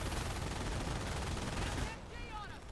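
Dense, continuous machine gun and rifle fire from the World War II strategy game Company of Heroes, loud and sustained before thinning out near the end, with faint voice chatter underneath.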